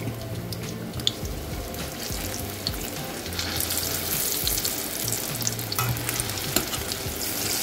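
Potato chops fry in hot oil with a dense, continuous sizzle and occasional crackling pops, close and fairly loud.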